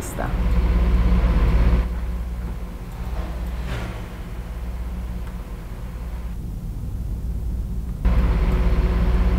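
An Invictus 15M coach bus in Euro Truck Simulator 2, heard from outside on southern Peru routes, gives a steady, droning engine rumble that stays continuous, louder at the start and end with a slightly softer stretch in between.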